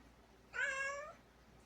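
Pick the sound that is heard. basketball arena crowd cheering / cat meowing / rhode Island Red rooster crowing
cat meowing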